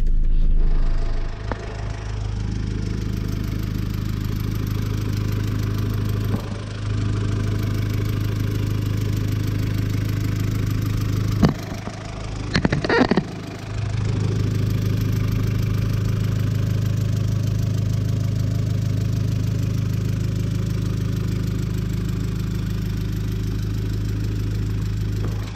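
A Citroën C8 with 420,000 km sits warm and idling, heard from the open engine bay. It gives a steady, loud mid-pitched hum, broken briefly by a few clicks and a short rev partway through.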